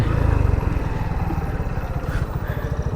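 A motorcycle engine idles close by, its rapid low pulsing throb steady and fairly loud for the whole stretch, with faint background noise.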